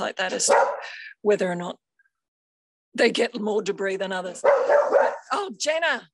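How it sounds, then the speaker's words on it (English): Dogs bark and yip nearby as an old dog chases a puppy. Sharp, high yelps come in quick runs, mixed in with and between a person talking. "So that's the sound of the old dog chasing the puppy"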